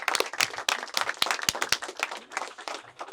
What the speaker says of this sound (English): Clap your hands for my brother Ski Beatz one time